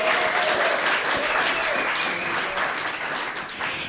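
Audience applause for the food, drink and cleaning staff at an evening event, a steady dense burst of many hands clapping throughout, fairly loud and close.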